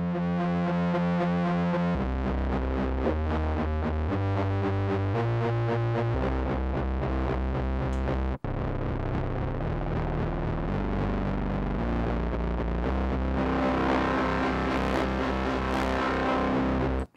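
Distorted synth tones from a Sequential Pro 3 paraphonic synthesizer with its distortion engaged, playing a loud, steady sequence of changing chords and bass notes with a gritty, biting edge, broken by one abrupt cut midway.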